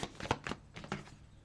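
Tarot cards riffled in quick, papery bursts, about five short shuffles in a second and a half, close and fairly crisp.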